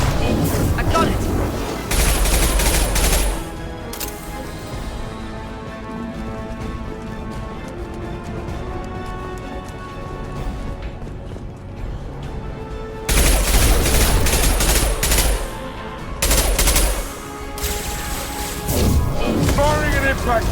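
Gunfire from the video game Mass Effect 2, including an impact shot, comes in loud, dense bursts of shots and crashes. Quieter stretches with music and voices fall between the bursts.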